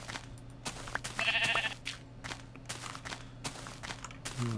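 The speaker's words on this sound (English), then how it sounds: "Got me so shaken I'm beating sheep here" Sheep in a blocky survival video game bleat as the player strikes them: short repeated bleats over soft footstep-like taps and clicks, close and fairly quiet, with no talking.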